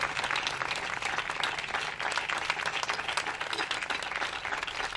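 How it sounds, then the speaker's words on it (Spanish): Sustained audience applause fills a PSOE political rally on ecology in Leganés, dense steady clapping from a large crowd throughout with no pauses. "Gracias, Omar, por el aplauso"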